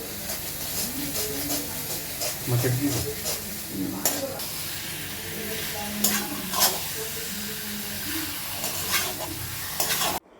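Chicken frying in a pan in a home kitchen gives a continuous close sizzle and hiss, broken by scattered clinks and scrapes of stirring throughout.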